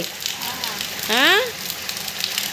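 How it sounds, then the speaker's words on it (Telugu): Heavy rain falls in a steady dense hiss, with a voice speaking briefly over it. "ఏం చేయాలి ఇంత వర్షంతో?"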